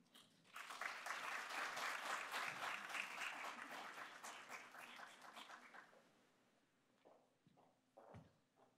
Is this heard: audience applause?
yes